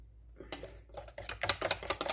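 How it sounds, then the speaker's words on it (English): Whisk clattering against a bowl while mixing a loose batter for cheesy casserole bread, a quick run of light, irregular scraping taps close by, alone without talk. "Whisk that in there real well."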